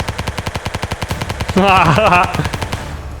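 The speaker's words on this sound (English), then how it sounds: "I shot it down with a submachine gun" Rapid submachine gun fire in the Ancient Warfare 3 video game, a steady burst of evenly spaced shots running about two and a half seconds before trailing off, with a brief louder tonal game sound overlapping midway.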